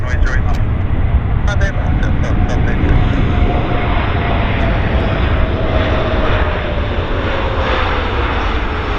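A Porter Airlines plane roars loudly and steadily at Vancouver YVR airport, its engine noise filling the scene with a droning, rumbling whine while faint radio-like chatter and clicks come through.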